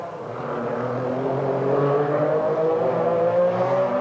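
MG Metro 6R4 race cars at the Birmingham Superprix street circuit, engines droning and rising in pitch as they accelerate, growing louder and steady, close by and without voices.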